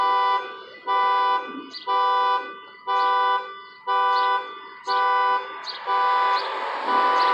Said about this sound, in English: Hey, tell somebody the alarm going off.